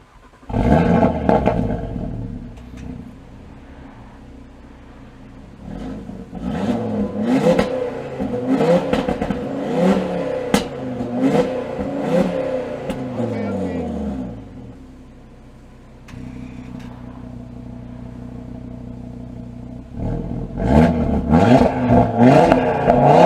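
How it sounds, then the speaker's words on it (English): An Audi RS3 engine with stock exhaust revs hard several times, roaring up and dropping back to a rumbling idle between bursts, close and loud. "let me show you guys a little sound test before in comfort and in dynamic"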